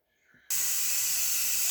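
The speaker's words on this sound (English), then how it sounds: "You can see I'm letting the steam off." An electric pressure cooker cooking a beef roast with potatoes and carrots bursts into a loud, steady hiss of released steam after a brief faint lead-in, continuing strongly without a break.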